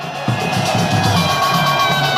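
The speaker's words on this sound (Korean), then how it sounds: "모두 박수로 맞으시기 바랍니다." Crowd at an outdoor presidential campaign rally in Cheonan applauding and cheering, a dense, steady wash of clapping and voices that swells after a brief start and holds loud throughout.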